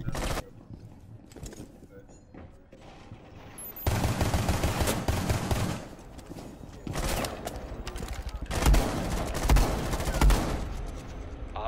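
Shotgun blasts and other gunfire in the tactical shooter Rainbow Six Siege, with bursts of loud shots that grow heavier and more rapid in the second half, ringing up close over game noise.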